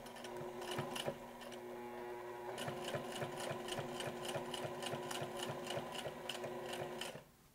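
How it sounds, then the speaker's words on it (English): A sewing machine stitches down a shirt placket in a fast, steady mechanical whir. Needle strikes tick rapidly, with a brief stop near the start before a long continuous run that ends abruptly. It sounds close but fairly quiet, with no talking. "From here, I sew down the various bits of the"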